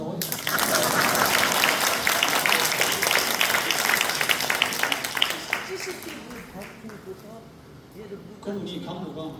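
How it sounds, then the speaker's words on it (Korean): A seminar audience of pastors breaks into sustained applause, dense and loud for several seconds, then thinning out as a voice speaks over the tail end. "박수가 나와요."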